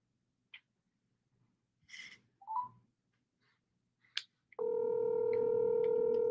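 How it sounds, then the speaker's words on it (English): A phone call connects after a few soft scattered noises, then a steady, loud ringing tone begins and holds for the last couple of seconds. "Let's see if she picks up the phone."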